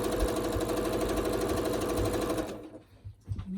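A sewing machine stitches fabric for quilt triangles with a fast, even mechanical rattle for about two and a half seconds, then stops, leaving faint handling noises.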